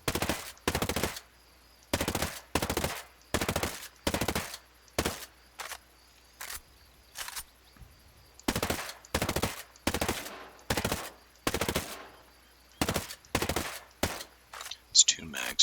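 AK-12 assault rifle in Ghost Recon Breakpoint firing full-auto in repeated short bursts, each a sharp, loud rattle of rapid shots separated by brief silent gaps, about a dozen bursts in steady rhythm.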